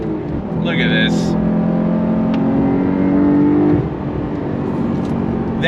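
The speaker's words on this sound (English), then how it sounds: "That sound of that flat 6, it is absolutely amazing." A 2024 Porsche 911 Carrera T's flat-six engine revving on throttle, a loud, rising drone that holds for a few seconds then drops away, with voices heard briefly at the start and end.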